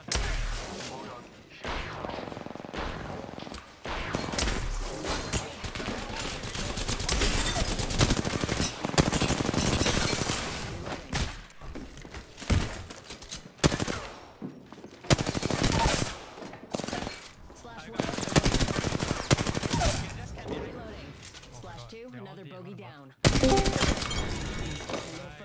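Video game gunfire in a battle royale match, with dense bursts of automatic weapon fire and explosive shots nearly continuous and loud, a brief silence near the end before firing resumes, under occasional speech.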